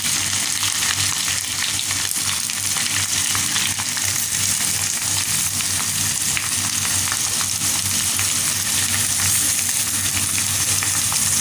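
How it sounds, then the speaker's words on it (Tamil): Onions, curry leaves and green chillies fry in hot oil for a Sri Lankan-style chicken dish, a loud continuous crackling sizzle heard up close and unbroken from start to finish, with no voices. "இது கொஞ்சம் கோல்டு கலருக்கு பொரியட்டும், நல்லா கோல்டு கலருக்கு வரட்டும்"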